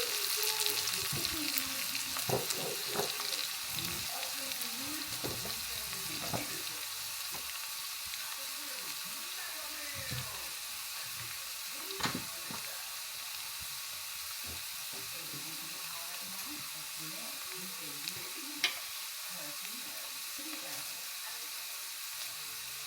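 Chopped onions sizzle steadily in hot oil in a pan for a curry, a continuous quiet fry broken by occasional stirring scrapes and small clinks.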